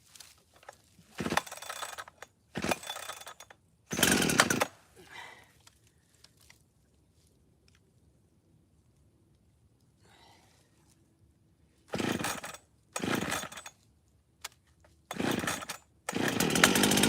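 A Husqvarna chainsaw cuts into a tree in loud, repeated bursts of a few seconds each, separated by quieter stretches of idling and near silence.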